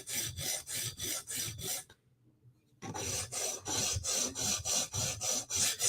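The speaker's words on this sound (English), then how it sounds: "Okay, now we're going to sharpen." Rhythmic rasping strokes of a knife edge drawn across a sharpening stone, about a dozen quick even passes, a brief silent pause, then another steady run of strokes close by.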